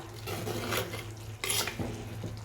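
Pepper chicken, Kerala style, stirred in a pot as the oil separates: two bursts of scraping and clattering spoon-on-pot strokes, close and fairly loud, over a steady low hum, with no talk.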